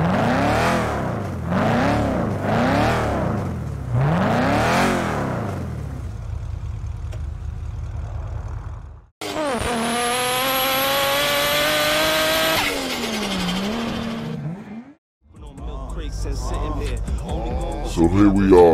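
A Koenigsegg Jesko in a racing video game revs hard through repeated rising sweeps and gear changes, loud and close, with short pauses between bursts and a sharp high-pitched whine in the middle run.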